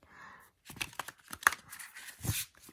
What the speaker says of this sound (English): let's see how it shuffle compared to the first edition deck